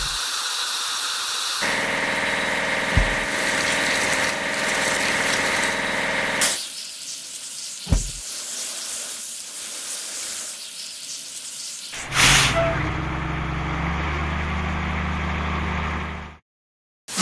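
A drop side truck in a house-building truck video game runs its engine steadily, with sharp hissing air brake releases and squeals breaking in several times before the sound cuts off.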